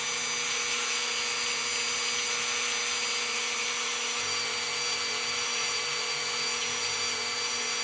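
A rotary tool fitted with a ceramic bit sands a Creative-Tonie toy figure, giving a steady, unbroken whirring grind at even loudness throughout, with no talking.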